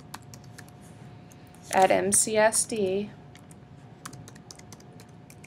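Soft clicking of computer keyboard keys typing a username, faint scattered taps running under and around a spoken voice.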